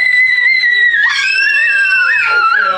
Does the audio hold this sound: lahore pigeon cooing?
no